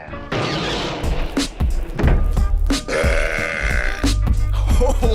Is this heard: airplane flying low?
no